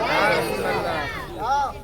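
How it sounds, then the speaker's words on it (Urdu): A gathering at a religious talk chants "Ya Rasool Allah" loudly in unison, a short, strong burst of massed voices with rising and falling pitch. "نعرے کر زور سے بول دیجئے یا رسول اللہ"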